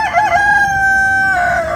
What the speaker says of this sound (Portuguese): Meu Deus, oi, esse galo.